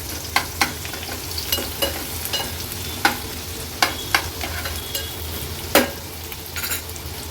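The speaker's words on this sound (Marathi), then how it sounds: "लसूण आणि कांदा मीडियम फ्लेमवर आपल्याला शिजवून घ्यायचा आहे।" Garlic and onion fry in oil over a medium flame, giving a continuous soft sizzle broken by a series of sharp scraping clicks as a spoon stirs the pan.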